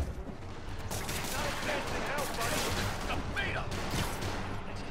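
Dense, continuous gunfire from enemy thugs in the Marvel's Spider-Man Remastered video game, loud sustained bursts with crashes and combat noise throughout, mixed under game music and a voice talking.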